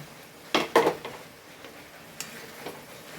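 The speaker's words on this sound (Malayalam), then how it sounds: "ഒന്ന് ഇളക്കി കൊടുക്കാം" A spoon stirring special pickle in a pan, two quick loud scraping clatters close up, then a few fainter taps against the pan over a quiet background.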